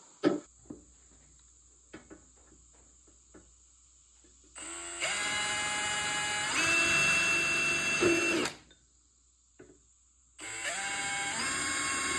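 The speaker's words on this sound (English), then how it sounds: "That's where we'll be drilling for our pop rivets." A power drill whines in two long bursts, high and steady, drilling holes for pop rivets, separated by quiet gaps with a few small clicks and taps.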